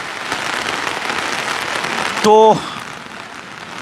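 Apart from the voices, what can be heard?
heavy rain falling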